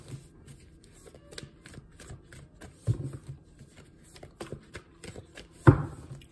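Cards riffle and snap in quick, close shuffles, with soft clicks between and two sharper bursts of cards hitting together.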